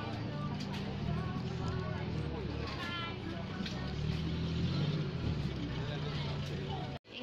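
Cars and other traffic move past at a busy evening market in Taiwan, a steady close rumble of engines and road noise with crowd voices mixed in throughout.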